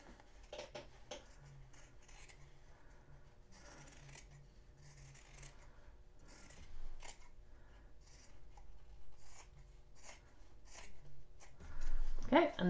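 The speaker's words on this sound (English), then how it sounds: "we're going to trim the seam allowances here to a quarter inch" Scissors snip through fabric seam allowances on a sewn eye pillow, giving quiet, scattered cuts over a soft room background.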